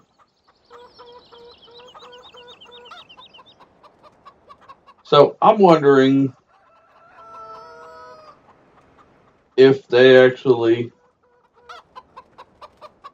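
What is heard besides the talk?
chicken clucking from Farming Simulator 17 video game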